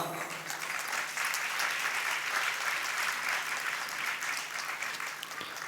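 An audience at a Jain sermon in Sus Gaon, Pune applauds in a steady, dense wash of clapping that carries through without a break.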